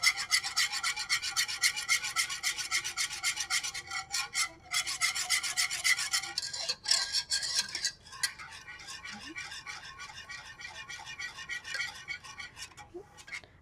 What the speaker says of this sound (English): Now you're just going to whisk this until you get your desired